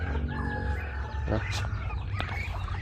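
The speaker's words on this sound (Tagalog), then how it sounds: "Mga barako natin." Roosters at a poultry farm crow close by over a steady farmyard background, with clucking and a brief burst of other fowl noise.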